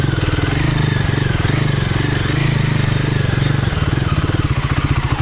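A Royal Enfield Himalayan 450 motorcycle ridden on sandy woodland singletrack in Michigan, its engine thumping steadily and loudly up close with a rapid pulsing beat and small shifts in throttle throughout.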